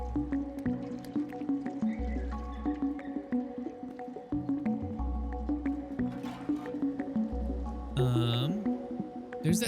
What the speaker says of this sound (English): Let's drink some water real quick.